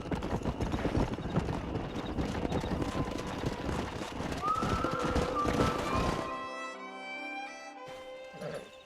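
Horse hooves in Red Dead Redemption 2 clop along steadily under wind-like noise for about six seconds, then give way to quieter tonal game sounds.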